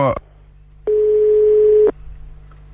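A single steady telephone ringback tone sounds for about a second while a call is placed to a number, clear and alone after a short burst of voice at the start.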